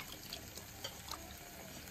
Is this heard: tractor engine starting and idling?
no